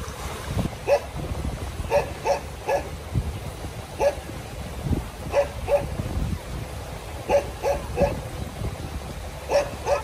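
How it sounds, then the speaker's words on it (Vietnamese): A yellow dog barks by the sea in short, sharp clusters of yelps repeated over about ten seconds, at moderate distance over a background of surf and wind. "Nghe đâu đó có tiếng chó sủa. Thì ra là chú chó vàng này."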